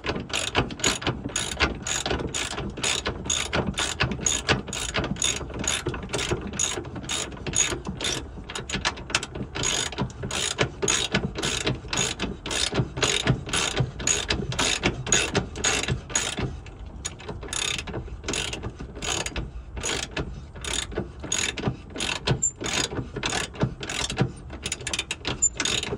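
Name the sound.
ratchet tightening a long bolt on a rear control arm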